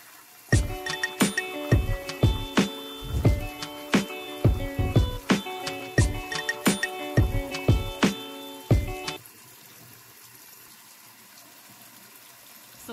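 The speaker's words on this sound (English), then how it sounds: "then proceed to brushing the rest of my teeth." A toothbrush scrubbing teeth in a morning routine, brisk repeated strokes in an uneven rhythm, close and fairly loud, stopping abruptly partway and leaving quiet room tone.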